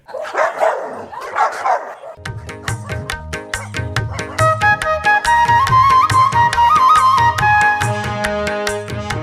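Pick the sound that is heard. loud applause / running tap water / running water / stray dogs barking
stray dogs barking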